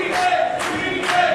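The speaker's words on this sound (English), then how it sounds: "The crowd is chanting for the Ricans, though, the New Yoricans." Crowd at an indie wrestling event chanting in a rhythmic, repeated two-beat pattern, loud and continuous, filling the arena.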